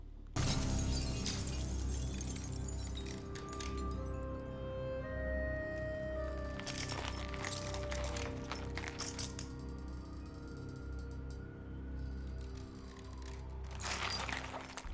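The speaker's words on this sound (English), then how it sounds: "pulls Makarov off the ground, clips the tow cable, and shatters the glass" Glass shatters in a Modern Warfare action scene involving a tow cable and a fall. Sharp crashing bursts break over a dense, droning game soundtrack with sustained tones, recurring a few times.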